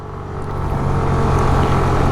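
A Hero Xoom 125 scooter accelerates at full throttle, its engine drone rising steadily in pitch and loudness, heard close and loud with heavy wind rush.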